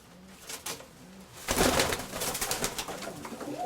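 A grey pigeon coos close by in a few soft rounded calls, followed by a louder rustling burst like flapping wings that carries on to the end.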